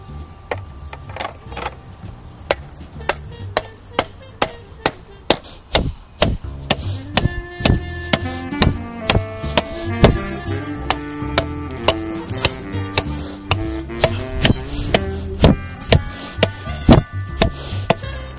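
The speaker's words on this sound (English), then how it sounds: "I'm going to turn the spikes around, hammer it in, and secure my edging down." Repeated sharp hammer strikes drive spikes into landscape edging, ringing out in a steady rhythm, close and loud, with pauses between bursts of blows.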